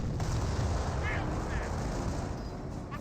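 Artillery and gunfire from the Company of Heroes game, with Flak 88 hits on a Pershing tank, form a dense, continuous rumble of blasts and shots that stays loud throughout, with a few faint tonal bits on top.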